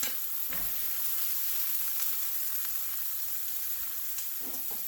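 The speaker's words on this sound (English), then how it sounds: "All right, our onion is getting fried up there pretty good." Onion and meat fry in a pan with a steady, close sizzle and occasional stirring scrapes, no talking.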